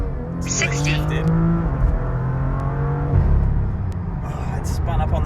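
A BMW M2 on an E85 tune with Michelin Pilot Sport Cup 2 tires accelerates hard, its engine note climbing through the revs, shifting and climbing again as the wheels spin up, loud and close inside the car, with people talking over it.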